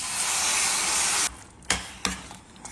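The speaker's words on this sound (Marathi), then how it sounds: "टोमॅटो प्युरी घालूया." Tomato puree hits a pan of chana masala and sizzles loudly and steadily, then cuts off, followed by a few sharp clatters of a utensil against the pan.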